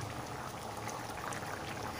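Egg curry broth with potatoes simmers in a pot, giving a steady, dense bubbling hiss that continues without a break and stays fairly quiet.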